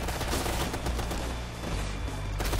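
Light machine gun fire crackles in the shooter game Ghost Recon Future Soldier: a dense, loud, continuous burst of rapid shots that barely lets up across the span.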